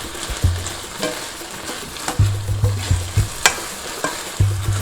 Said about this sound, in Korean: 양념한 거를 여기다 붓는 거야 여기서 이거를 볶아줘